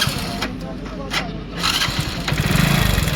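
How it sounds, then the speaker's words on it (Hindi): A Hero Splendor PSX motorcycle engine with a fault making excessive noise runs steadily, a broadband mechanical clatter and rumble that grows louder toward the end, with sound-only noise bursts throughout. "हमारी इस बाइक का इंजन है बहुत ज़्यादा आवाज़ कर रहा है।"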